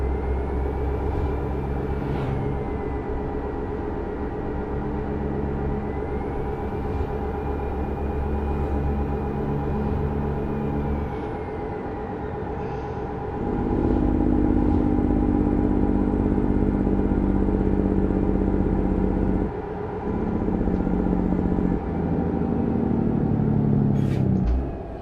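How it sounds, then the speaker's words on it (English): Steady low tire roar and engine rumble inside a stretched Peterbilt 379 truck cruising down the road, loud and continuous, swelling louder midway, with a faint whine above and no talking. "these tires are really loud"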